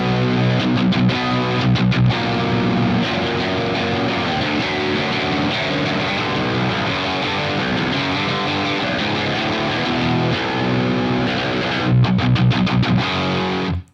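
A heavily distorted D'Angelico Atlantic baritone electric guitar tuned to B standard plays thick, high-gain saturated riffs with chugging stops and sustained chords, loud and alone.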